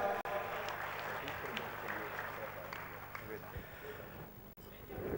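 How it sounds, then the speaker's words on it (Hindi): An audience applauds to welcome a revered guru onto the stage at a Dharma Sansad religious gathering in Sambhal, with sustained clapping at moderate distance mixed with a voice speaking over it. "एक बार जोरदार तालियों से पूज्य महाराज श्री का भी अभिनंदन"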